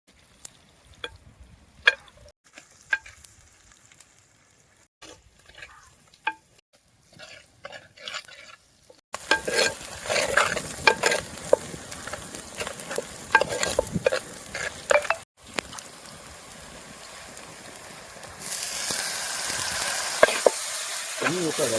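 Dried fish frying in oil without water, stirred steadily in a pan with scraping and clinking strokes over a continuous sizzle that grows louder and denser halfway through, in a village kitchen.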